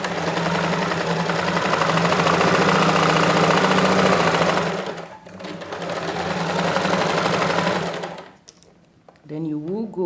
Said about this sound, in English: Then I'll take it to the sewing machine and sew from this edge down to the end of the pocket.